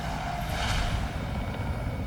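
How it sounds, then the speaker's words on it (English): Loud, close rotor and engine noise of Royal Navy Wessex helicopters roars steadily for a brief moment. "Three helicopters head for the glacier"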